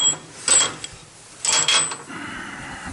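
Bolts fitted onto the steel legs of a homemade campfire barbecue, giving two short bursts of metallic clinking and rattling close by, separated by a quiet pause, with a low hum continuing afterward.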